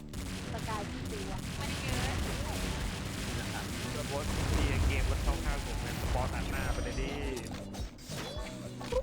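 Explosive pistol fire in the XSHOT shooting game crackles in dense, repeated bursts, layered with clattering mechanical effects and crashes, with a voice talking over the busy game mix.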